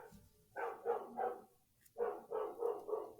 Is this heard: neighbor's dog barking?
yes